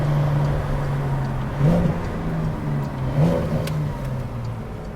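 A Porsche 911 Carrera 4S engine hums and revs up in surges under boost, with a whirring tone climbing and shifting pitch over loud, rumbling road noise.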